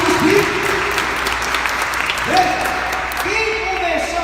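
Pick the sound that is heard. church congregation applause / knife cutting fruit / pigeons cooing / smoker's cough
church congregation applause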